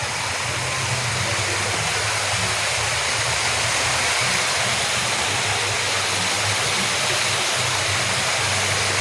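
Steady rushing water pours continuously from a swimming pool outflow, a loud, even roar like a spillway, with no voices.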